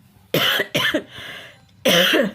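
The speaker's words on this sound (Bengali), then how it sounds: "আমার খুব কাশি হয়েছে" A woman with a cold coughs at home in three harsh, close bursts, two quick ones followed by a longer one after a short quiet pause, with no talking.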